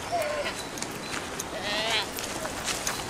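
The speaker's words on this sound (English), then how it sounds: "Billy goats." Goats bleat a few times at a moderate distance amid outdoor background noise, with faint voices now and then.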